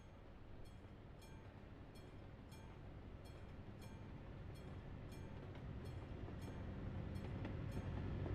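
A train rumbles past at a distance, a low steady roar with rhythmic clicking of wheels over rail joints, slowly growing louder over the span.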